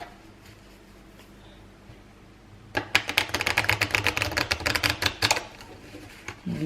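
Deck of oracle cards being shuffled by hand, a rapid run of crisp close riffling flicks for a few seconds after a quiet lead-in.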